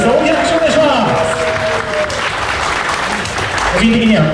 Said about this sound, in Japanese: 皆さん大きな拍手お願いします